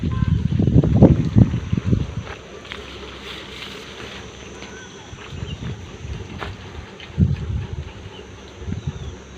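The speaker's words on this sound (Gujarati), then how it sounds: "પવન ઉડ્યો" Outdoor wind gusting across a village dairy farm, buffeting the microphone in deep rumbling bursts that are strongest at the start and return in shorter gusts later, over a steady low background hiss.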